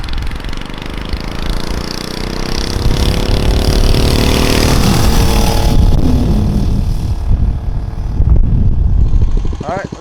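A Monster Moto 105cc minibike engine revving up as it rides closer, the pitch rising into a loud sustained drone before easing off near the end.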